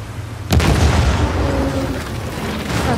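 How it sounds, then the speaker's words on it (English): Rocket launcher explosion hitting an APC in the video game Uncharted: a sudden loud boom followed by a sustained rumbling roar that slowly fades but stays heavy. "Rocket launcher."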